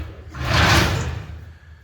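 A sliding toilet platform running on drawer-style rails inside a Unimog camper build, giving a single smooth rolling slide that swells and fades with a soft thud, heard up close.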